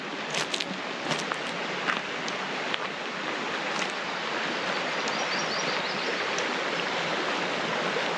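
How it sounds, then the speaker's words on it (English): Constant broadband rush of flowing creek water at a campsite in Coyote Flats, Eastern Sierra, close and steady, with a few faint clicks and ticks above the wash. "This creek."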